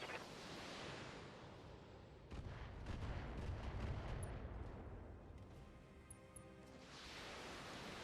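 Mech weapons fire in Battletech, a heavy rumbling barrage swelling in the middle over a continuous noisy wash, distant and muffled.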